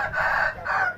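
A rooster crows loudly nearby at a rural barber's home where chickens are raised, two drawn-out calls filling the second with no voices.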